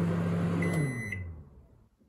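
A Panasonic microwave oven hums steadily with a faint high tone, then its low hum drops away and fades out within about two seconds.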